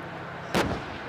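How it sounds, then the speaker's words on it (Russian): A tank's main cannon fires once during a tank biathlon shooting run: one sudden, loud, close blast that decays quickly into a brief rumble, with no other sounds around it. "Выстрел!"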